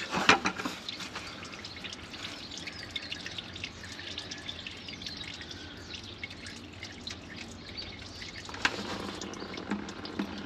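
Oil draining and dripping into a pan during a final oil change, a steady faint trickle broken by occasional sharper drips throughout, with no talking.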